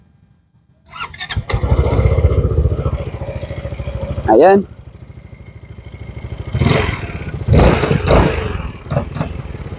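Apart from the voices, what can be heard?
Zontes 368G maxi-scooter engine starting and exhaust revving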